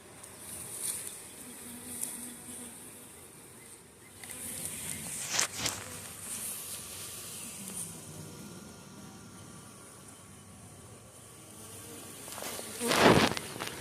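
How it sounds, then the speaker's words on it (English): A soft, steady hum of honeybees rises from an open backyard hive during a comb-fixing inspection, with faint rustling, a few footsteps and a louder thump near the end. "It's a good amount of bees."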